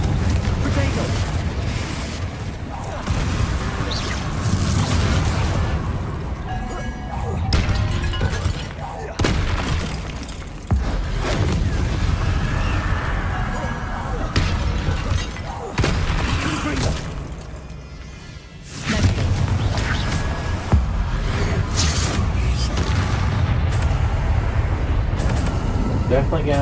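Confringo explosion spells go off in Hogwarts Legacy combat against Inferi, with repeated booms and shattering crashes over a dense, continuous battle rumble, mixed with voices throughout.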